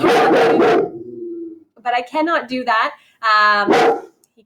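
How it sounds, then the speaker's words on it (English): A pet dog barks several times close to the microphone in short, loud bursts, mixed in with a person speaking. "Sorry, that's my dog."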